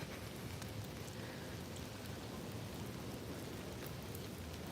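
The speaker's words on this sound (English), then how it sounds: "it's pouring down rain" Steady, pouring rain hisses across a cemetery as an even, unbroken wash of noise, with no voices.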